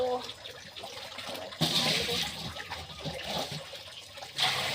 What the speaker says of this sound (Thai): ขออนุญาตตักน้ำก่อนเด้อค่ะ